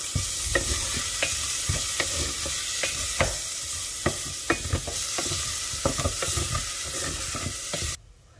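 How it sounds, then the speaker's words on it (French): Shallots fry in butter in a saucepan with a steady, close sizzle, while a utensil stirs and scrapes the pan in repeated soft strokes. The sizzle runs continuously for about eight seconds before cutting out. "je vais faire déglacer échalotes dans la casserole"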